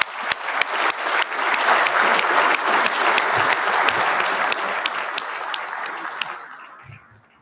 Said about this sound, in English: Round of applause for Cherry Point.